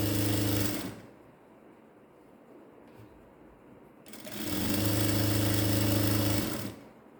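A sewing machine stitches a seam along a pant leg in two fast, whirring runs of about one and two and a half seconds, with a quiet pause between them, close and clear.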